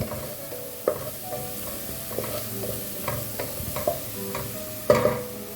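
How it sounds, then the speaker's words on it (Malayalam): Crushed ginger, green chilli and garlic sizzle softly in a pan, broken by several sharp scrapes and taps of a spoon stirring against the metal. "പച്ചമുളക്, വെളുത്തുള്ളി, ഇഞ്ചി ചതച്ചതിൻ്റെ ഒരു പച്ചമണം മാറുന്നത് വരെ ഇതൊന്ന് വാട്ടിയെടുക്കാം"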